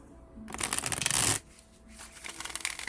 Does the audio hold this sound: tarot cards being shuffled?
yes